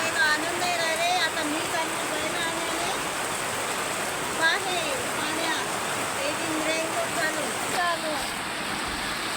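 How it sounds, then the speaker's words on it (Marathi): Heavy water rushes and roars continuously nearby, while faint chirping birds or voices drift in and out above the flow. "हे पा एवढं पाणी चालू आहे"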